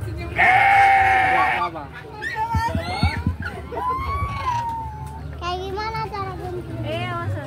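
A sheep gives one loud, drawn-out bleat up close during a sheep-shearing demonstration at Cimory Cepogo, Boyolali. People talk over farm background noise afterward.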